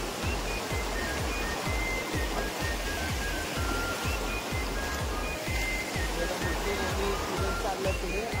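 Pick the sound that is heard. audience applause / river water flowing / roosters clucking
river water flowing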